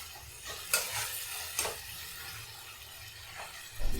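Tomato puree sizzles softly in a pan while being stirred, with a few sharp scraping clinks of a utensil against the pan at intervals.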